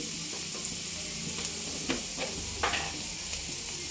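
Food sizzles steadily in a hot pan while a spoon stirs and mixes it, with a few sharp scraping knocks cutting through the constant frying hiss.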